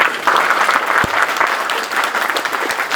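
Strong, steady applause from a crowd gathered at a community platform meeting, many hands clapping loudly and continuously without a break.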